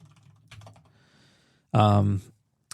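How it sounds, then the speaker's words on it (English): Computer keyboard typing in a casual podcast setting, with light scattered key clicks under a voice in the room. "I'm going to type it in the chat."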